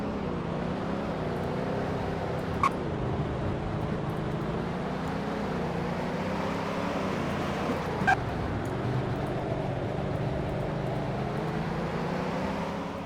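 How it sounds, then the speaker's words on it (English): Steady engine drone of a video game Rolls-Royce Dawn convertible being driven, a low, wavering hum that rises and falls slightly, continuous throughout with two brief clicks, no talking. "And here's what it sounds like to drive."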